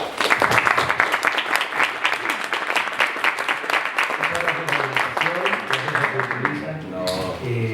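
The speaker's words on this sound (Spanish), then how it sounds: "les pido por favor un aplauso" An audience at an architecture and citizenship talk applauds in a dense, steady burst of clapping that fades over several seconds, with a voice speaking as it dies down.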